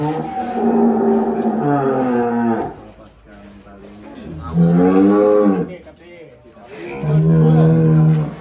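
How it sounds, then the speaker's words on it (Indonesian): Three long, loud cattle moos with a short pause between each, close by, carrying over a quiet background. "Sapi kedua nih."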